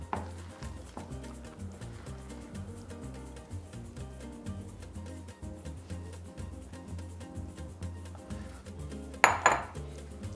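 Breakfast dough worked with starch in a bowl, a steady run of dull knocks and scrapes from a utensil against the bowl, ending in a louder clatter near the close.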